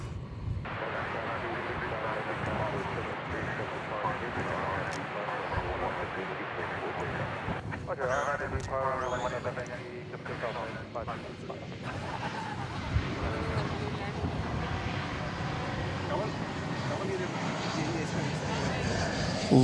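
Large airliner takes off at night from runway 18 left at DFW Airport, its engine roar and wind rush building from a distance, with a person talking over the steady noise.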